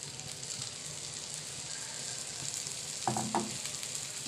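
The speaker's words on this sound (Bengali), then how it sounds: "এখন এটাকে আস্তে আস্তে নেড়ে নেড়ে রান্না করে নেব।" Chicken filling with tomato sauce fries in a pan with a steady sizzle, and a few scraping stirs of a utensil rise briefly near the end, close and moderately quiet.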